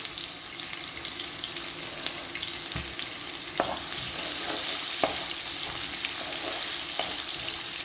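Sliced onions sizzle steadily in hot oil while being cooked down for chicken shawarma, a continuous frying hiss broken by a few sharp clatters of stirring.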